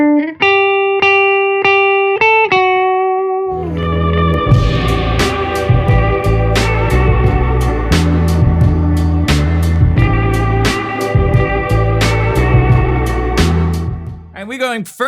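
Lo-fi electric guitar through effects pedals, a few clean-toned picked notes opening before a dense, distorted, reverberant passage with strummed chords and sharp attacks, loud and continuous until a brief trailing swell at the end.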